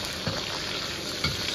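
Sichuan pepper, star anise, scallion, ginger, garlic and chili fry in rendered pork belly fat, a dense, close sizzle with a couple of soft stirring knocks in a brief burst.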